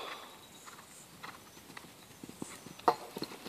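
Hooves of a horse cantering during a showjumping lesson at an equestrian centre, a soft, fairly faint clip-clop with a rhythm of light thuds and one sharper knock near the end, all under a quiet outdoor background.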